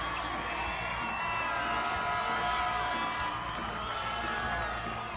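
Basketball crowd cheering and shouting at a state semifinal game between Rocky Mountain and Pine Bluffs, a steady, loud roar of many voices filling a gym.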